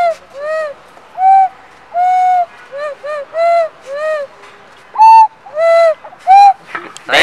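A svistulechka, a small whistle instrument, is played in a series of short, pure, rising-and-falling hooting notes with gaps between them, loud and close.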